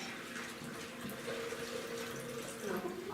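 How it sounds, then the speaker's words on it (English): Water pours from a bottle into a cooking pot during a home cooking class, making a soft, steady splashing flow that rises slightly in pitch as the pot fills. "We're gonna put 2 cups of water."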